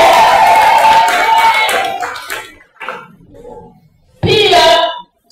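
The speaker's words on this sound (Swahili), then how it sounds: "Makofi yake." Audience clapping at a small business empowerment forum as a guest is welcomed, a dense close burst of applause that fades, followed by a brief voice and a second short burst of clapping.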